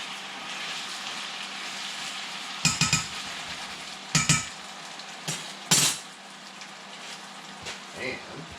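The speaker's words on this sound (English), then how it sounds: "toss the fried potatoes around" Fried potatoes tossed in a cast iron pan, a steady sizzle with several sharp clattering scrapes and knocks of the utensil against the pan, near and clear, with a voice speaking at times.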